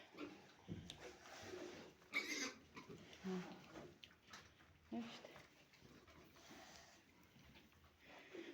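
Pigs in a farm pen, including a young sow and small piglets, grunt and oink in irregular close bursts with some sniffing, and a faint human voice comes through in places.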